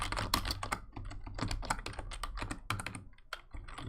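Fast, close computer keyboard typing, with bursts of crisp key clicks and short pauses between runs, heard alone with no talking.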